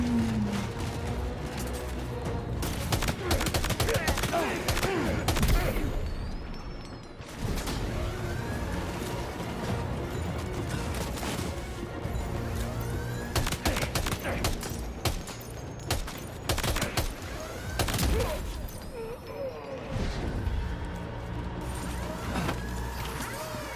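Bursts of gunfire in Death Stranding 2: On the Beach, sharp repeated shots layered over a dense, loud game soundscape with sirens and vehicle noise throughout, mixed under in-game voices.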